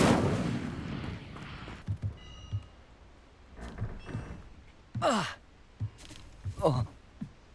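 A fire spell in Hogwarts Legacy goes off as a series of whooshing, roaring blasts with rushing flame bursts, loud and close, separated by short gaps, with breathy vocal effort mixed in.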